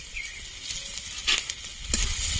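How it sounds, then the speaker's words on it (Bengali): Garlic and grated ginger fry in a small amount of white oil in a wok, making a faint, continuous sizzle broken by scattered soft crackles and pops. "রসুন আর আদাটা একটু হালকা লালচে করে ভেজে নেব"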